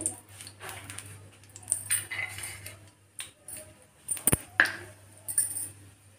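Almonds and cashews tipped into hot ghee in a pan: faint clinks and light metallic taps of the nuts and spoon against the vessel, scattered over several seconds with a soft background hum, no talking.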